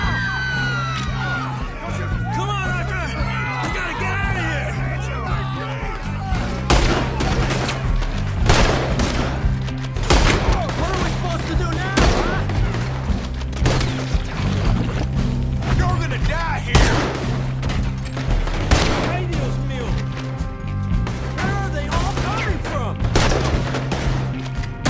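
Gunfire in the video game Red Dead Redemption 2: repeated sharp shots crack over a steady musical score and shouting voices, with firing recurring at intervals throughout.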